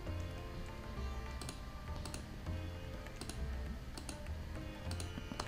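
Keyboard shortcut presses (Ctrl D) during work on a computer presentation: several soft, quick key clicks spaced out over a faint steady background hum, with no one speaking.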